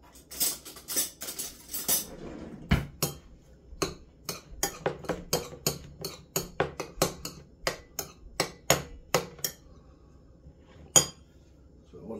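Metal spoon clinking repeatedly against a bowl while stirring leftover chopped tomato and onion, a steady run of sharp close clicks with brief pauses, no voices.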